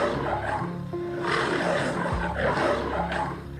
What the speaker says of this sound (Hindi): तभी उसे शेर की आवाज सुनाई दी।